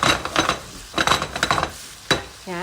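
Beef and bell pepper are stirred in a pan, with close, irregular scrapes and clinks of a utensil against the metal over a light sizzle.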